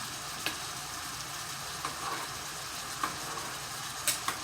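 Elbow noodles boiling in a pot make a steady, close hiss of bubbling water, broken by occasional small pops and ticks, with no voices.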